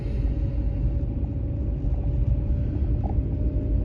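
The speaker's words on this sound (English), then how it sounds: "he's using a piece of grading equipment to break up the snow" Grading equipment works slowly over snow on a smooth paved road, giving a steady, loud low engine rumble that holds without a break throughout.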